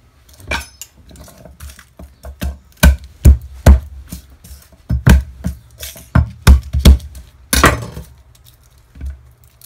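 A knife trimming the root ends off garlic cloves on a board, a series of sharp, close chopping knocks in an irregular rhythm, some clustered quickly together, heard alone without speech.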